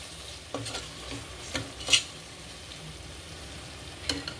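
Faint stirring of yogurt into chicken biryani masala in a pan, soft scraping and a few light clinks of a spoon against the vessel over a quiet sizzle, with no talk.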